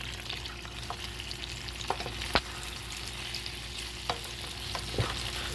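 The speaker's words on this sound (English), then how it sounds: "Ooh, do you hear that sizzling sound?" Steady crackling sizzle of shrimp frying in a pan for shrimp scampi, with occasional sharp pops and light stirring clicks, no voices.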